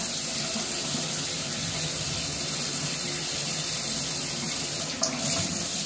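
Tap water runs steadily into a sink while mascara is rinsed off, a constant bright gushing stream with a small splash or shift near the end and no talking.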